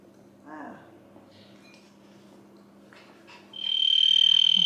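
Field crickets on a two-acre farm in the Algarve, Portugal, start a loud, steady high chirring near the end after a quiet stretch with a few faint sounds.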